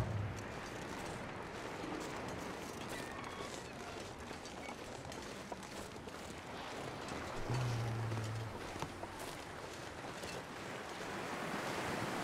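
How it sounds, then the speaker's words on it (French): Steady, roaring wind gusts without pause across a snowy wilderness in the survival video game The Long Dark, a broad rushing noise filling the whole scene. "Ah, le vent évidemment de cette direction."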